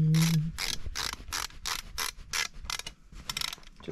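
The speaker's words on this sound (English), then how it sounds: "we'll put our screw back in. No big deal. Flip our screwdriver over" A screwdriver drives a screw back into an RV roller shade, giving a close run of about a dozen quick ratcheting clicks and rasping turns in an uneven rhythm, with no talk over it.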